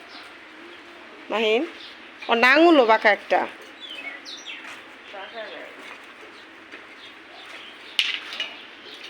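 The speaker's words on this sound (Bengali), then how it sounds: "বাইরে পাখির শব্দ শুনছে" Pigeons cooing outside, several warbling coos in bursts with a few chirps, close and fairly loud, while people talk in the room.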